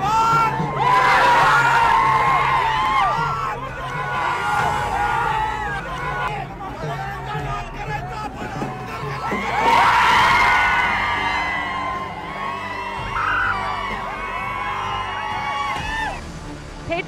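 A crowd cheers in celebration after an uncontested election win in Angar, Solapur, with loud whoops and yells rising in two surges over constant hubbub and chatter.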